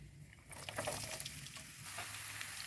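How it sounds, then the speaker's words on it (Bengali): Chopped garlic and green chilies hitting hot oil in a pan for an eggplant pickle, a steady close sizzle and crackle that swells after the first half second and keeps frying. "তেলটা গরম হয়ে গিয়েছে এখানে আমি সাত আট কোয়া রসুন কুচি করে নিয়েছি আর দুটি কাঁচামরিচ"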